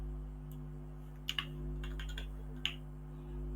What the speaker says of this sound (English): I'll type hello here.